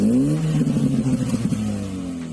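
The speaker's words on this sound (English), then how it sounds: "It's a 3-cylinder, it's a nice 3-cylinder rumble" A MINI Cooper 60 Years Edition with a three-cylinder engine revs up and settles into a close, throaty rumble, the note wavering and fluttering briefly before holding a steady idle.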